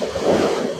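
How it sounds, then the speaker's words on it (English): Waves roll on a rough sea in a loud, steady wash of surf mixed with wind buffeting the microphone, with no voices. "The sound you're hearing behind is the sound of the waves."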